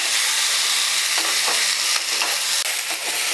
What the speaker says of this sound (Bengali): সবজিগুলো খুব ভালো করে আমি মশলার সাথে কষিয়ে নিচ্ছি নাড়াচাড়া করে করে